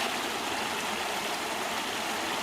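A small creek spilling over a little drop in the Okanagan, giving a steady, close, broadband rush of falling water that runs evenly and unbroken throughout.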